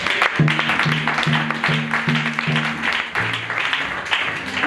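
A church congregation claps in a steady rhythm along with low sustained musical tones, the clapping continuing evenly throughout.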